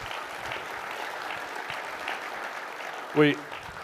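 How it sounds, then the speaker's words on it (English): A conference audience at a keynote applauds a sponsor, a steady wash of many hands clapping at moderate distance throughout, with a brief loud bump near the end. "Big round of applause for ThreatLocker."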